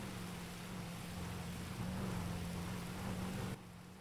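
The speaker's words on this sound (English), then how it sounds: "it's a tiny little rain shower" A steady rain shower hisses in the OCRP roleplay video game, an even, continuous wash of falling water that fills the whole stretch before dropping slightly quieter near the end, with no voices.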